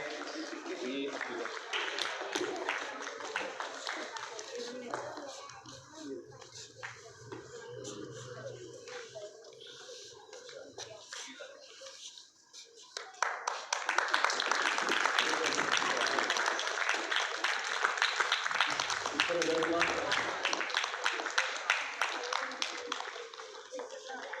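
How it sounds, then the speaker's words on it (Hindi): Schoolchildren and guests at a Std 5th to 7th trophy distribution ceremony clapping, lighter patter under a voice at first, then swelling into loud, sustained applause for the second half. "जोरदार तालियां"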